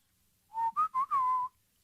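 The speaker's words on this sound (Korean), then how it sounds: "저도 휘파람 부는 거 되게 좋아하는데 지금 밤인 게 한번 불어볼까요?" A person whistles a short melodic phrase of four clear notes, close and alone in a quiet room, the last note held longest.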